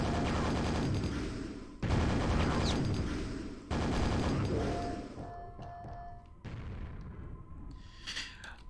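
Loud, dense barrages of weapon fire and grenade blasts in the video game Quake, coming in three heavy waves before thinning into scattered shots and a tonal whine.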